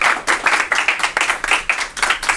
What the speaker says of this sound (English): let's give you guys a round of applause for yourself